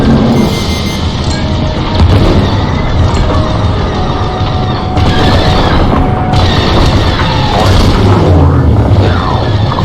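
Heavy, continuous booming detonations fill the scene as starship cores blow up in the Star Wars Squadrons space combat game, loud rumbling blasts layered with roaring engine noise and no pauses.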